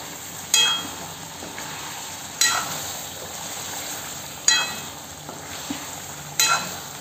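Khandeshi mutton curry masala is sautéed in a pan under a low, steady sizzle, with four evenly spaced stirring scrapes from a spoon and no talking.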